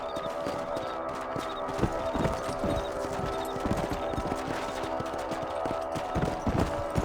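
Horse hooves clip-clopping in Red Dead Redemption as riders patrol a ranch property, a steady rhythmic gait of several hooves close by over a low outdoor ambience, with no talk.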